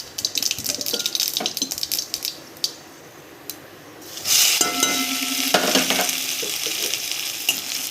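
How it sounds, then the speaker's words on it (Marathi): Mustard seeds dropped into hot oil for tempering a samosa filling, giving a loud sizzle and spatter that bursts in about halfway through and holds steady after a quieter stretch of kitchen clatter. "तेल तापलेलं आहे थोडीशी मोहरी फार नाही टाकायची"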